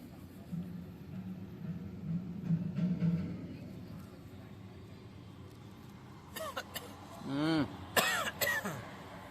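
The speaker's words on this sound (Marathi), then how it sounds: "आमच्या माणसाला बघा खोकला लागलाय" A man coughs and clears his throat in a few rough bursts in the latter half, fairly close, while people prepare a flower rangoli at a wedding on a cold day, with a low murmur of background activity before.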